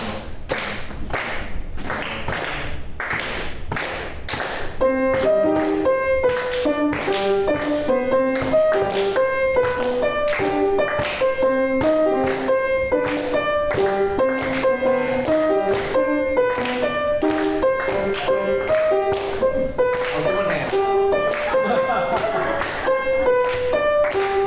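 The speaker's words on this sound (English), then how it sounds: "I want you guys to clap this 2/3 stone clave" A group claps a 2-3 son clave pattern in steady repeating bursts, at first alone and then under a montuno piano figure that takes over as the main sound.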